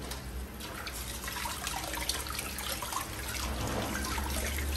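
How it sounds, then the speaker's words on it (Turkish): Grape leaves rinsed by hand under running tap water, a steady soft splash and trickle at close range with no talk. "Böyle aralarını hafif hafif açarak yıkayalım."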